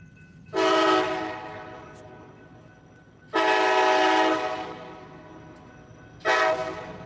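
A passing train sounds its horn in three loud, sustained blasts, each a couple of seconds long and separated by gaps of rumbling rail noise, heard from a moderate distance.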